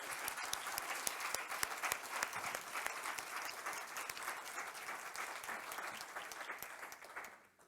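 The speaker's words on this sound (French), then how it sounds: "si vous pouvez applaudir nos panélistes" Audience applause for conference panelists, fairly faint, dense clapping from a roomful of people that continues steadily and then tapers off toward the end.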